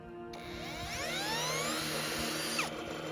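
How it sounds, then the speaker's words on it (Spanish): A cordless drill whirs up to speed, turning a generator mechanism, its pitch rising and holding steady for a couple of seconds before winding down, close by with no talking. "Y con un taladro de batería, damos un movimiento inicial al sistema"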